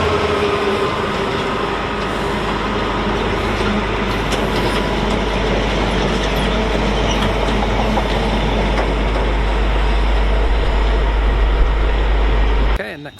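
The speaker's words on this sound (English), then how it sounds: "This is from Totton North Yard to Crewe Basford Hall. It is a Freightliner" Freightliner Class 66 locomotive 66606 hauls a freight train from Totton North Yard to Crewe Basford Hall past Stafford on the West Coast Main Line, a loud steady rumble and roar of engine and wagons that holds throughout, then cuts off at the end.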